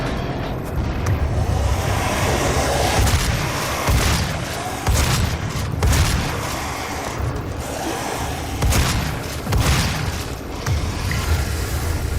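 A grenade is thrown and explodes in the DOOM video game, heavy booms bursting out of a dense, loud wash of gunfire-like blasts and mechanical game noise that runs throughout.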